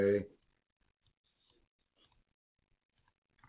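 A single mouse click on an OK button, faint and sharp, followed by a few scattered light clicks; a voice is briefly heard at the start.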